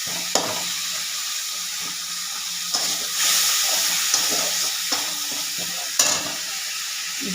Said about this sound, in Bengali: এবার একটু পেঁয়াজ বাটা দিয়ে দেবো। দিয়ে দেবো একটু টমেটো,